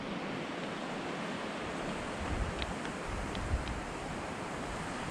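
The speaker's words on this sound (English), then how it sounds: "Big waterfall over there somewhere." Distant big waterfall in Bergsfjord, a Norwegian fjord, heard as a broad steady roar mixed with wind buffeting the microphone, with no talking.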